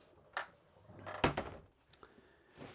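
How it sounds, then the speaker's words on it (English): A heavy door slides along its track and thuds shut, with a few knocks and scrapes before and after, fairly close and moderately loud. "Privacy door to close off this master bedroom. And that will go all the way across."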